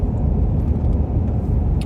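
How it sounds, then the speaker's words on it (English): Cars on a Central Texas road rush past in a continuous broad roar of traffic, with brief hissing bursts near the end and no talk. "that's a traffic jam, isn't it?"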